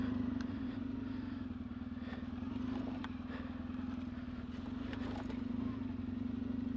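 Off-road motorcycle on a Belgian forest singletrack, the engine idling and revving unevenly close by as the bike works through a difficult section, with light clatter and no clear voices.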